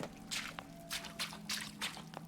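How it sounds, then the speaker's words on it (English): Footsteps splashing through puddles in Bioshock Infinite: Burial at Sea, a series of soft wet squelching splashes at a walking pace over a steady low game ambience. "You make more noise in puddles and such."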